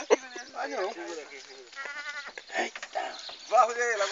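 A billy goat being held on a rope bleats in wavering, quavering cries, first near the start and again louder toward the end, while people talk and shout over it.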